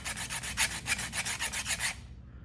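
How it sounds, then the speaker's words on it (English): A 14c28n steel drop-point fixed-blade knife is sharpened on a coarse diamond plate in a sharpening guide: about ten quick, even rasping strokes close up, then silence. "I've got the coarse diamond plate on the workshop sharp guide right here."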